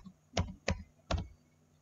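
Three separate clicks of keys on a computer keyboard while text is typed into an Excel spreadsheet, each key press sharp and close, with short uneven pauses in a quiet room.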